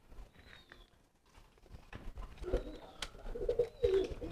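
Domestic market pigeon cooing in courtship, a few low throaty coos growing louder toward the end over faint background noise.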